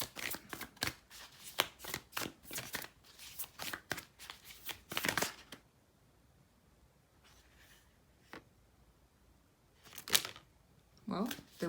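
Tarot cards are shuffled by hand in quick riffling, flicking bursts, then a pause with a few isolated card snaps and slides near the end.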